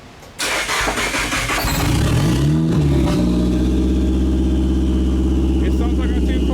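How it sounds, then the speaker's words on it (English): A Nissan S15 running without a mid pipe starts up and revs loudly nearby, a raspy cranking that settles into a steady, throaty idle with a rising and falling rev, while people talk over it. "So that's what an S15 sounds like."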